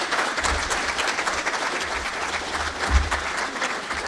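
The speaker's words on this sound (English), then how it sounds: "Well, a hand of applause first." A conference audience claps in a sustained round of applause, dense and even throughout with no voices over it.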